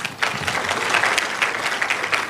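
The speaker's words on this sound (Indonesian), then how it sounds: "tepuk tangan dong" A church congregation claps in response to the pastor's call during a sermon, a lively burst of many hands with rising and falling intensity, fairly close and loud.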